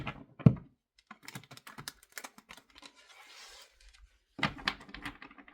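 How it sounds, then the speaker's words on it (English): Soft papery flicks and riffles of tarot cards being shuffled, in irregular bursts with a short whispery stretch, close and fairly quiet. "I'm going to do one more shuffle."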